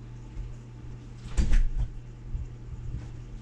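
A house door is opened to let a cat outside, giving a short close thump and rattle of the door in a quiet room, followed by faint softer handling noises.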